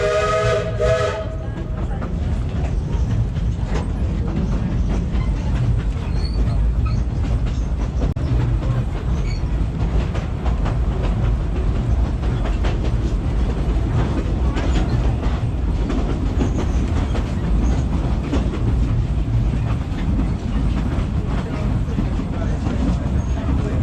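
Cripple Creek train rolling steadily along the tracks, a continuous loud rumble and clatter throughout with a brief whistle-like tone at the very start.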